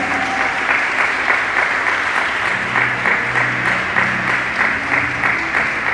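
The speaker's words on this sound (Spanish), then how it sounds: "Dale ese aplauso a Cristo." Sustained applause from a church congregation fills the space, a dense steady wash of many hands clapping at even loudness throughout with faint murmurs beneath.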